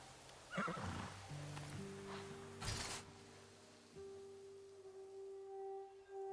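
A horse in the video game Ghost of Yotei whinnies loudly with a shrill, descending neigh, then snorts, over a soft electronic drone with sustained tones.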